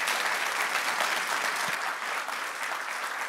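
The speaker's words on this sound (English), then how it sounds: "a big round of applause for Luna." Conference audience at the SEMANTiCS 2023 opening day breaks into steady, dense applause, a continuous wash of many hands clapping together at even loudness with no voices on top.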